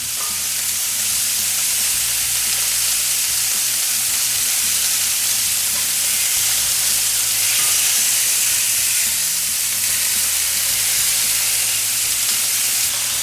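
Pork tenderloins brown in a hot pan with a loud, steady sizzle and hiss that runs unbroken throughout, with no voices over it.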